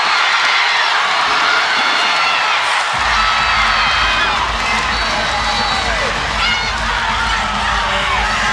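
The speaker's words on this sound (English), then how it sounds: "You can see the cameras on their platform shaking because of the crowd noise right now" A packed arena crowd at a women's volleyball regional final roars loudly and steadily, a deep rumble swelling in partway through and building to a sustained, deafening cheer.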